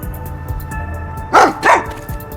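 Two sharp, loud barks from a dog in the video game Master Detective Archives: Rain Code, coming close together over a quiet game soundscape.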